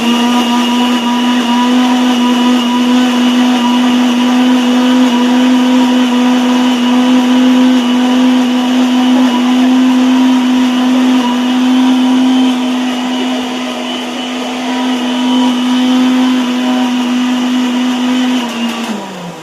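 A kitchen blender grinds food for a mutton dish with a loud, steady high motor whine that holds evenly for nearly twenty seconds before winding down abruptly at the end.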